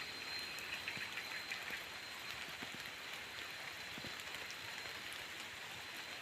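Steady rain falls on surfaces nearby in the fields and paddies, a constant dense patter with occasional louder drops, and no one speaking.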